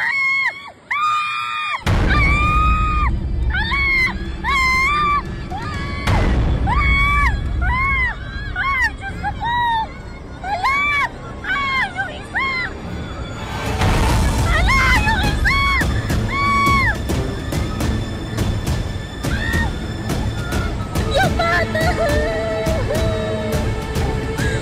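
Screaming and panicked yelling from a crowd as children are swept away by a raging river in General Trias, Cavite, loud and sustained in repeated bursts over rushing noise.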